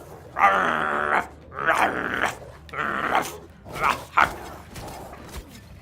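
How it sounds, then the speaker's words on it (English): Dogs in the Wolfenstein: The Old Blood game bark and growl in four or five close, loud bursts, separated by short pauses. "Shit, the dogs."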